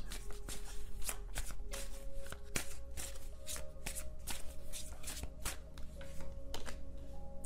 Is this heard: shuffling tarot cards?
yes